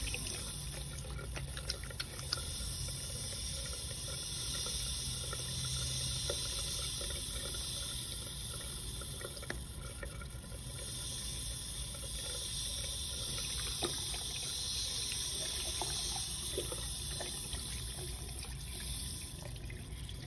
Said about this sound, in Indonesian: di sini saya akan melakukan mencuci tangan menurut 6 langkah menurut WHO